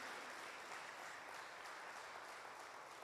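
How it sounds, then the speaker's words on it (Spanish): Church congregation gives God a strong round of applause, a continuous, dense patter of many hands clapping at a steady level, fairly distant and unbroken by speech. "Dale un fuerte aplauso a Dios"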